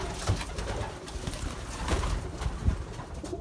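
Belgian racing pigeons coo in an aviary, several soft low burbling calls overlapping in a loose rhythm with light rustling, close by and with no one speaking.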